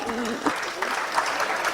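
Sustained audience applause at a tax conference in Jaipur, a steady dense wash of clapping with a voice speaking over it.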